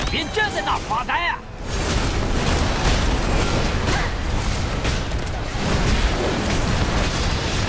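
Booming, crackling explosions burst in a World of Warcraft dungeon during a mushroom-themed adventure, a dense, loud roar that runs on for several seconds after a brief opening stretch.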